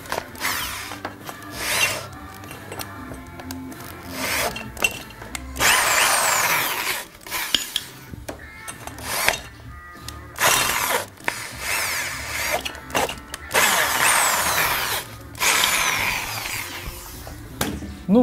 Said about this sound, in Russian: Потом я беру дрель